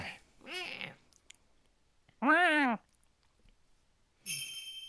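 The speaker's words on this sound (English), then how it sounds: "Didn't know there were cats here." A cat meows in the Phoenix Wright: Ace Attorney game, three separate clear, fairly loud mews spaced about two seconds apart against near silence.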